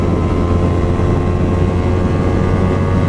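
A Yamaha XJ6 motorcycle accelerates on a highway, a loud, steady, close engine roar with wind rush that barely changes over the few seconds, with no talking.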